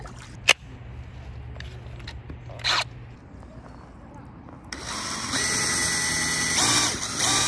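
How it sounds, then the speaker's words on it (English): A few short clicks and a brief whir, then an electric drill driving a paddle on an inflatable raft spins up and runs with a loud, steady whine. "Hook this baby up to a drill."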